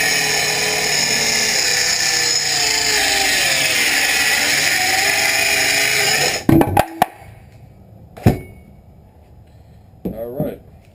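A Makita power saw recuts wooden boards for an off-grid cabin build, a loud steady whine for several seconds that stops abruptly, followed by a few knocks and clunks nearby.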